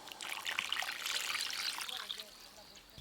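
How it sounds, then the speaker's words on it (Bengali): Water poured into a cooking pot on the stove while steaming fish curry, a steady mid-level trickle and splash running continuously for a few seconds, with no voices. "আর একটু জল লাগবে, জল দেব।"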